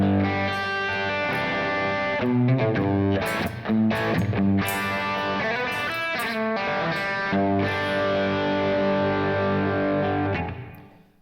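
Electric guitar run through a Kemper Plexi amp profile with crunchy breakup, playing a dense, sustained distorted riff with chiming chords and quick choppy accents for about ten seconds before fading out, no voices.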